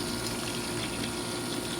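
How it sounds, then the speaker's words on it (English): Water pours steadily onto potted grapefruit seeds, a continuous close rushing splash with no pauses. "I'm just gonna water them in."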